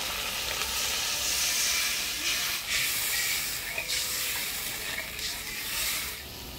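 Spice paste sizzling as water is poured into the hot pan for a Bengali egg curry, a steady loud hiss with brief bursts of steam, no talking.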